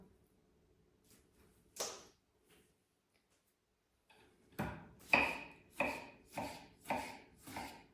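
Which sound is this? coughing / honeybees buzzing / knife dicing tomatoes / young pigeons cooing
knife dicing tomatoes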